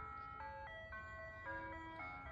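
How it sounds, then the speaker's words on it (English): An ice cream truck plays its melodic jingle as it approaches, bright electronic notes stepping through a tune in clear sustained tones, moderately faint over a low background hum. "Here comes the ice cream truck,"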